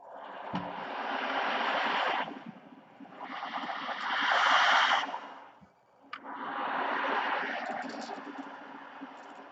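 An ocean drum is tilted slowly to imitate waves, giving three long swelling washes of rolling hiss that rise, crest and fade with brief quiet gaps between them, close and fairly loud.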